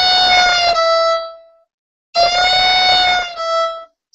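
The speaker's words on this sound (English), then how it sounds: "like a right away up slide, down slide." Two bowed fiddle notes, each sliding quickly up and then back down in pitch, bright and close, played alone with a short silence between them.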